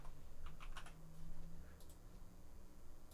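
Quick bursts of clicking keystrokes on a computer keyboard, a few short runs of typing close by and fairly quiet, with pauses between them.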